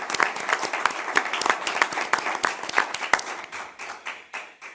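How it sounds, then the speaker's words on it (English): Applause from an audience at a commission meeting: several seconds of dense, steady clapping from many hands with sharp individual claps standing out, gradually thinning and fading toward the end. "I'm just going to give her a round of applause."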